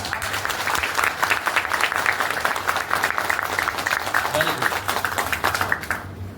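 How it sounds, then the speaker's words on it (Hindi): Seminar audience applauding steadily, dense continuous clapping from a crowd that holds at an even level for about six seconds before stopping abruptly, with a low hum and some voices underneath. "तालियां बजाओ"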